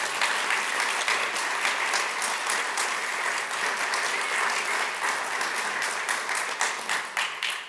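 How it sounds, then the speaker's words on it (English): Steady, full applause fills a conference hall as the audience claps continuously, the sound dense and even before thinning slightly at the very end. "round of applause"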